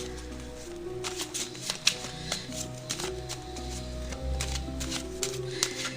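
Tarot cards are shuffled by hand in a soft ongoing patter of taps and flicks, quiet and close, over a low background hum.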